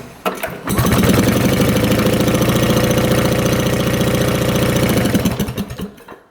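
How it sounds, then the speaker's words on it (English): 1965 scooter engine cranked over at full throttle, a loud close rhythmic chugging of rapid, even compression pulses that runs for about five seconds and then stops, with no voices. "Alright, we'll do a full throttle open. See if it cranks over here."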